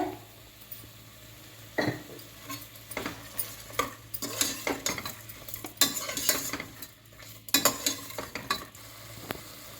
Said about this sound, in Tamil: நெய்யில் கொஞ்சம் நேரம் நல்லா வதங்கி வரட்டும்.